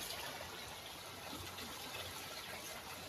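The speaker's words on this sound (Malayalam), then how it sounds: "ഇതാ കിണർ നിറഞ്ഞിട്ട് അവിടെ പൈപ്പ് കൊടുത്തിട്ടുണ്ട്. ആ പൈപ്പ് വഴി പോകുന്ന വെള്ളമാണ്." Water from a brimming well running out through a pipe in a rain-soaked yard, a steady continuous gushing rush heard close and alone.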